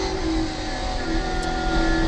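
Racing muscle cars, a Chevy Camaro and a Ford Mustang, roar around the Eastern Creek circuit with a sustained, moderately distant engine drone and steady pitch, no talking heard.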